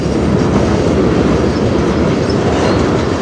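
CN train 485 passing nearby on the Strathroy Sub, with heavy continuous rumbling, clattering railcars and faint wheel squeal, loud and unbroken throughout.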